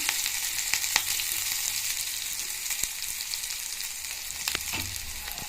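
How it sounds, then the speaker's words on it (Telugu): Urad dal, cumin, black pepper and ginger pieces sizzle as a tempering in hot oil for curd rice, a steady bright crackle with a few sharper pops and spatters throughout, close and alone. "వేసి పోపు బాగా వేగిన తర్వాత"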